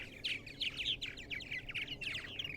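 Purple martins call at a nest colony on eastern Long Island in spring: a fairly faint but continuous run of gurgling chirps and warbles from several birds, with a low background rumble.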